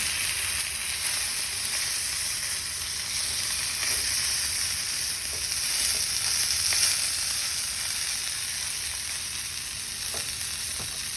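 A rib eye steak sizzling in a frying pan, a steady, bright crackle of hot fat that carries on without a break and with no talk.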